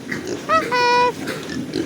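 Pigs on a pig farm let out a short squeal followed by a sustained higher cry, close by, under a faint farm background with no talk during the calls.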